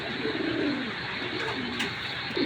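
Giribaj pigeons coo softly in a loft, low rolling coos repeating under a steady background hiss, close and moderate in level.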